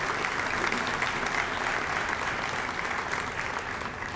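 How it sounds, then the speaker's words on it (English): A round of applause from the audience at a school district steering committee meeting, steady dense clapping held throughout at a fairly even level, with no talk over it. "So Renee, if you just give her a round of applause"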